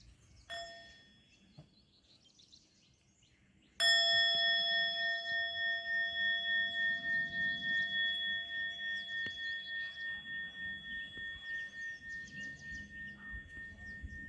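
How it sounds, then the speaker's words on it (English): A bell struck twice, a faint early tap followed by a loud strike whose bright metallic tone rings on and slowly decays with a pulsing, wavering shimmer, alone against quiet background birdsong. "So I hope the sound of the bell is reverberating through the cosmos"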